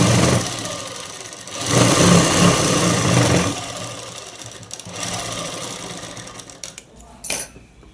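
A sewing machine stitches a dress in steady bursts, its motor whirring loud and close, pausing briefly between runs with a short final burst near the end.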